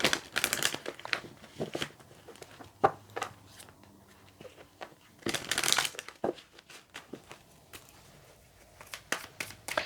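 An oracle card is drawn from the Chakra Wisdom deck, with close, intermittent rustling and riffling of cards in quick bursts separated by quiet pauses and no voices.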